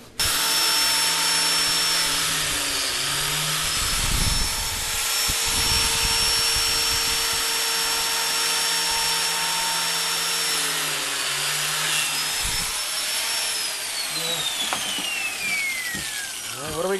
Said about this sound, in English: when that saw blade is out, it's going to cut a groove into this piece of wood